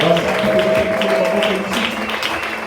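A church congregation at a Bible seminar applauding to acclaim the Lord, a steady wash of clapping from many hands heard under a sustained tone and voices.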